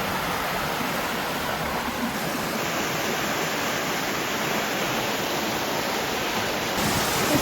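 A fast-flowing stream rushes steadily and loudly nearby, an unbroken wash of water noise with no pauses for the whole stretch.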